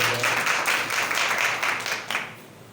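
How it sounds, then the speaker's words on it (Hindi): A church congregation claps together in a dense burst of applause that carries steadily for a couple of seconds, then fades. "खुदा के कलाम के लिए जोरदार तालियां बजाएं"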